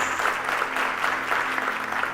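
A church congregation claps together during a sermon, producing a dense, even wash of applause that holds steady throughout without a break.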